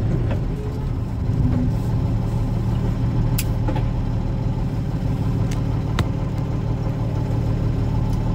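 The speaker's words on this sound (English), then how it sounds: "I got to get up to speed, highway speed. It's going to be way too loud" A truck engine drones loud and steady as it pulls up to highway speed, with a constant low rumble and a few faint clicks and rattles over it.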